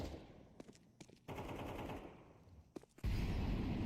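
Gunfire in the shooter game Counter-Strike 2, with bursts of rapid shots and scattered single cracks separated by short pauses, then a loud sustained roar of noise at the end, with no speech.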